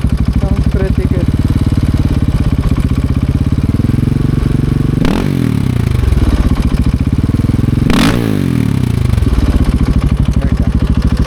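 KTM 690 Enduro single-cylinder motorcycle engine running loud and close, holding a steady lumpy idle with two sharp throttle blips about three seconds apart that rise and fall quickly.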